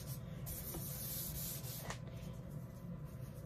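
Steady close-up rubbing on a worm compost bin as a coating is worked over its outside, edges and walls: continuous dry scrubbing hiss with brief sharper strokes, alone and without talk.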